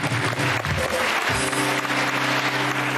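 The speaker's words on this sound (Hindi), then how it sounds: "ताली बजाओ" Studio audience clapping at a Pakistani game show, a dense, steady wash of applause filling the whole moment without any talk over it.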